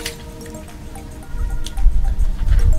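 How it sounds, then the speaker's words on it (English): Water poured onto potting soil in a pot for transplanting golden apple seedlings, giving wet, low squishing and dripping that grows louder and more continuous in the second half, close by, with no talking. "wet up the soil"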